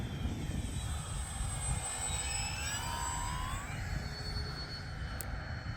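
A model airplane makes a slow pass with full flaps from right to left, its thin motor whine shifting in pitch as it crosses, faint and distant over steady outdoor background noise.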